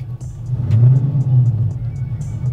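A nitrous-fed LSX 454 V8 in a Bubble Impala SS cranks and fires up with a slightly hesitant start, settling into a loud, deep, lumpy rumble with light revving, close by and without talk.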